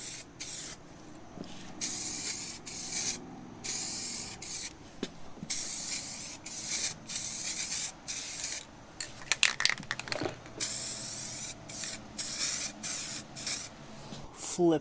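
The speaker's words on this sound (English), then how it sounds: "Now we're going to do the second coat." Short bursts of spray paint hiss out as a second coat goes onto car parts, coming in rapid repeated blasts separated by brief pauses, with a few light clatters near the middle.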